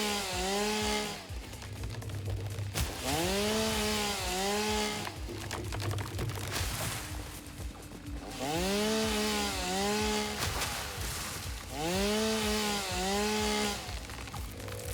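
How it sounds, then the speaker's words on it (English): A chainsaw in the video game Satisfactory cuts through wood in repeated loud bursts, its engine whine rising and falling in pitch with each stroke over a constant gritty roar. "The chainsaw has had many, many reworks over the years."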